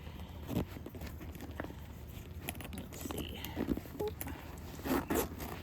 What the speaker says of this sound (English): Not the best zipper on these pouches though.